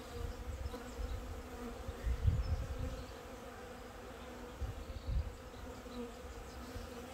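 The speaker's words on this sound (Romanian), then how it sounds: "Și sunt destul de liniștite albinuțele noastre." Honeybees at an open hive with frames full of eggs and young brood give a steady low buzz that swells and eases in soft waves, fairly close and calm.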